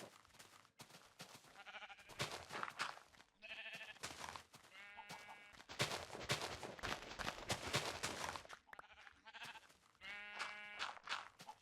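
Sheep bleat again and again in a noisy game scene, overlapping wavering cries of varying pitch mixed with scuffling and clattering sounds, fairly faint overall.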